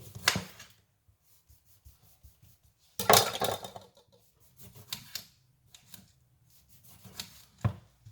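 A knife cutting slices of lime on a board: a few separate, sharp crunching cuts with quiet gaps between them, close and fairly loud.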